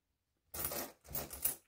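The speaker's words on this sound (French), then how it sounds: "Et il ne faut pas que j'oublie de mettre la pièce." A coin is set down on a table: two short metallic rattling clinks in quick succession, close and fairly quiet, over silence.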